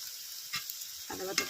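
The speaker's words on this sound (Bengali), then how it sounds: "আদা বাটাটা মিশিয়ে ঢাকা দিয়ে দেবো।" Ginger paste is stirred into pea greens cooking with snakehead fish over low heat, making a soft, quiet sizzle with a few brief scrapes of the spoon.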